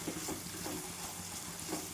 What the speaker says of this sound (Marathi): मसाला आपला छान भाजला आहे, तेल सुटत आहे.